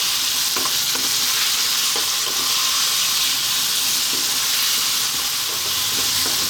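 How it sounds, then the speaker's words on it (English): Fresh chili fries in a sweet potato coconut curry, a steady loud sizzle running throughout with repeated scraping stir strokes at an even pace. "I'm going to add in my fresh chili. And we're going to go for about another 3 minutes. Keep it moving pretty much all the time now."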